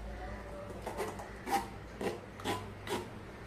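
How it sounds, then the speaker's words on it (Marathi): A raw mango mixture for chilled panha is pressed and strained through a kitchen sieve, giving about five soft, rhythmic scraping rubs, each a short burst close by with quiet pauses between. "आता हे मिश्रण आपण सगळं गाळणीवरती घेऊया."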